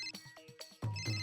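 A telephone rings in a household scene, a repeating electronic ring that starts up loudly after a few scattered knocks and shuffles.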